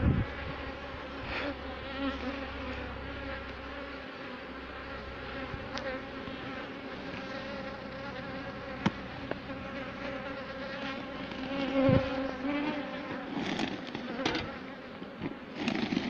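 Dense, continuous buzzing of honeybees around a hive where they build wax frames in a super, steady and close, with a few individual bees flying past the microphone and no talk.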